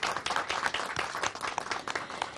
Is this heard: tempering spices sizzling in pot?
no